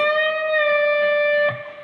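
A sustained electric guitar note with a clean, bright tone, bent up a full step and released, held steady before being picked again and fading.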